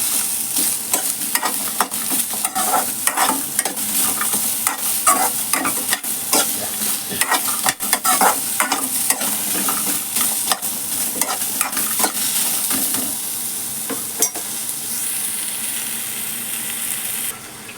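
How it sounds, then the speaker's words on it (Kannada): Onion and garlic fry in hot oil for a military-hotel-style country chicken curry, with a steady close sizzle and frequent scraping stirs of a spatula against the pan throughout. No one speaks. "ಇವಾಗ ಇದನ್ನು ಅಷ್ಟೇ ಕಲರ್ ಚೇಂಜ್ ಆಗೋವರೆಗೂ ಫ್ರೈ ಮಾಡ್ಕೊಳ್ಳೋಣ."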